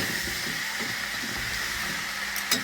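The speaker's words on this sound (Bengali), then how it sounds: "এইভাবে সমস্ত সবজিগুলোকে কষে নিতে হবে ভালো করে" Mixed vegetables for pachan fry in a pan with a steady, close sizzle and hiss, a soft stirring scrape under it and a brief clink near the end.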